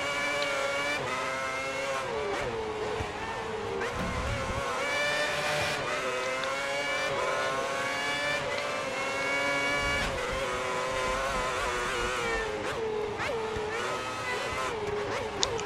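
Formula 1 race cars in the F1 2010 game at a Malaysian circuit, with a McLaren close behind: a constant, loud, high-pitched engine scream that shifts in pitch through gear changes, with someone talking over it.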